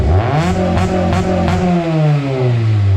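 A budget coupe with a budget aftermarket exhaust revs hard and bounces off its 5,500 rpm limiter in quick repeated pulses, then the pitch settles back down to a loud, rumbling idle.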